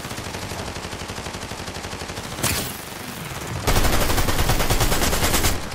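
Rapid automatic gunfire in a first-person shooter game, a steady dense rattle of shots throughout that briefly shifts and then returns louder and fuller for the final stretch, with no talking.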